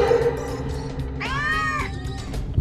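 Cat meowing in the horror game Case Animatronics Survival 2, a single drawn-out meow near the middle over a low background hum.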